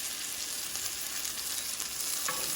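A vegan burger sizzles in a frying pan, a steady, close hiss of frying crackle with no talk, briefly rising near the end as it is stirred.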